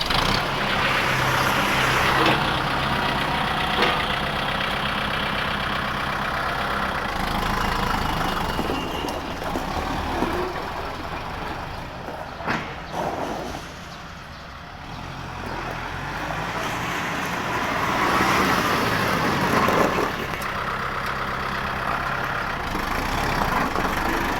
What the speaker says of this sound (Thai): เราจะให้ช่างสตาร์ท เครื่อง ให้ ดูนะครับ ขับ ไป ครับช่าง